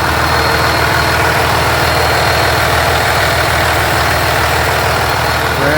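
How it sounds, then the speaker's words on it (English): A truck engine, freshly replaced after the old one's crankshaft failed at 329,000 miles, idles steadily and loudly up close, a continuous low rumble with faint vibration and no talk over it. "Got a brand new engine in here."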